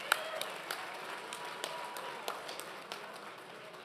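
Audience applause at a Texas country music awards show at Billy Bob's for an East Texas singer: a faint, distant spread of scattered claps and taps from a large room, with a few sharper claps standing out.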